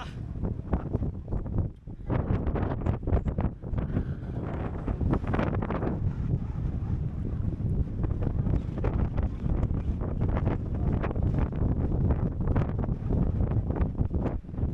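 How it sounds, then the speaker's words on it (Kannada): Strong wind blowing across an open landscape, loud and continuous with heavy gusty buffeting against the microphone and rumbling throughout, no voices. "ಫುಲ್ ಗಾಳಿ, ಸಿಕ್ಕಾಪಟ್ಟೆ ಗಾಳಿ ಬೀಸ್ತಾ ಇದೆ ಮಾತ್ರ."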